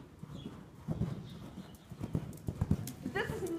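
Rhythmic clip-clop of horse hooves in an arena riding lesson, several irregular beats close by, with an instructor's voice talking over them and a brief whinny-like sound near the end.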